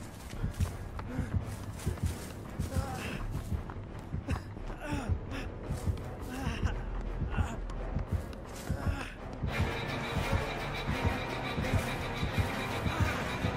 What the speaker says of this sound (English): I got heartbeats now.